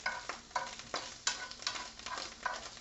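Mushroom gravy with green onions cooks in a pan, giving a quiet, crackling sizzle in rhythmic bursts, as if stirred every half second or so.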